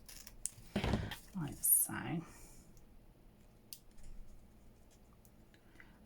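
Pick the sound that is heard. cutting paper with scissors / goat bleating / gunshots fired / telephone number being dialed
cutting paper with scissors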